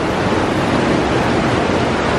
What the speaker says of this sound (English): I can see the waterfall rushing down from way up there.